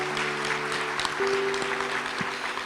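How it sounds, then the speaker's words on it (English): An audience applauding at a retirement tribute, a steady wash of clapping from a crowd under a sustained low musical hum, moderately loud and without speech. "Give her a round of applause."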